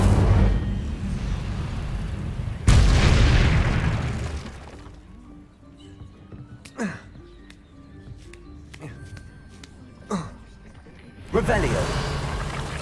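Incendio fire spells cast in Hogwarts Legacy, loud whooshing roars of flame in two long bursts, then quieter sharp pops and cracks before another roar at the close.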